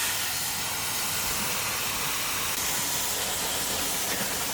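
Water sprays hard against the grid leaves of a Jandy pool filter, a steady loud hiss that holds unbroken throughout with no pauses.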